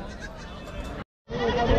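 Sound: goat bleating at a goat and sheep market

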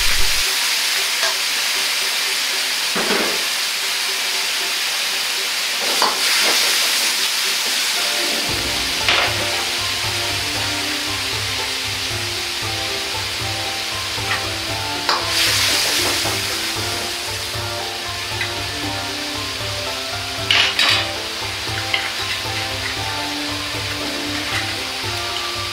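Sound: drained tofu added to hot pan, sizzling

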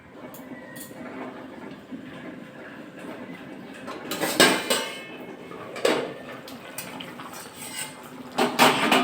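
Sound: lid being put on the cooking pot

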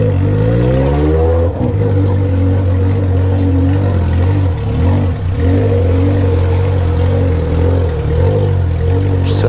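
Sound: Honda Hornet motorcycle with Atalla 3-inch 4x1 straight exhaust

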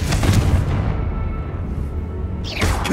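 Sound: Confringo fire spell blast from the video game Hogwarts Legacy

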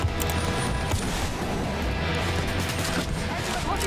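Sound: gunshots in a video game

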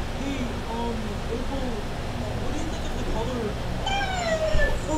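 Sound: cat meowing

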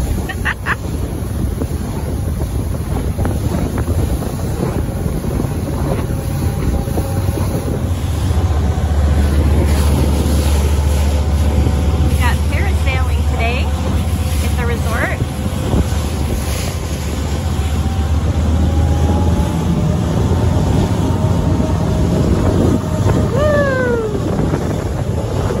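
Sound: motorboat ride on bumpy lake

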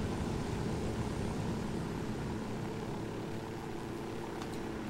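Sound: helicopter flying in Ghost Recon Wildlands video game

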